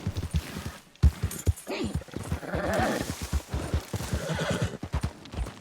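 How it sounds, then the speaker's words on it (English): Horse in the video game Red Dead Redemption 2 whinnies and neighs while hooves clip-clop in a steady rhythm, close and fairly loud, with someone talking over it. "Oh, chill out, horse."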